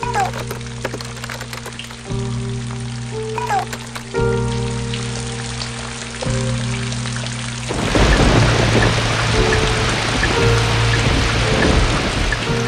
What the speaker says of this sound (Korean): 충북에는 지금도 강한 비가 내리면서 전 지역에 호우특보가 내려졌습니다